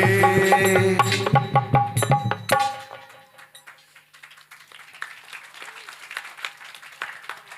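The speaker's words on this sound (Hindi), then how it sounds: "ऐसे बजाइए ताली जैसे एक संग ऐसे जोड़ते ऊंचे हाथ करो" Devotees at a Ram Katha gathering clap together after a sung verse, starting with a loud ringing musical passage that cuts off, then quieter scattered hand claps continuing behind it.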